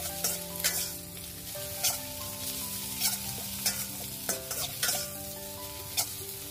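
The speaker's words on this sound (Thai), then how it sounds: "ให้เพื่อนๆเริ่มผัดเลยค่ะให้ซีอิ๊วดำเนี่ยเข้ากันดีกับเส้นของเรานะคะ" Thin rice noodles with sweet dark soy sauce are stir-fried in a pan, a steady sizzle broken by regular scraping strokes of the spatula about once a second.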